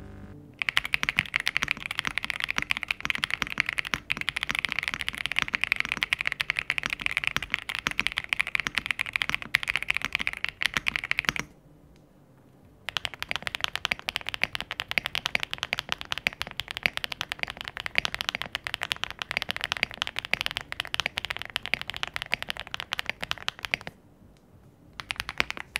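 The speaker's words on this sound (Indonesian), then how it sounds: "coba kalian dengerin dulu sound test dari ketiga keyboard ini" Typing sound test on three keyboards, a WK68, an Aula F65 with swapped switches and keycaps, and an RK R65, heard as continuous rapid clacky keystrokes in three long runs with short pauses between them.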